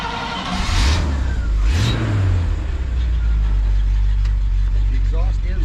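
A Chevy car engine revs through its exhaust nearby, with two sharp rising blips followed by a deep, steady burbling idle; voices talk faintly over it.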